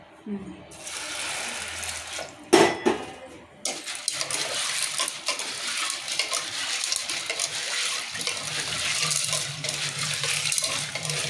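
Green peas are washed in water for a masala pea curry, giving running tap and sloshing water with a clattering splash partway through, continuing steadily at moderate level; no speech over it.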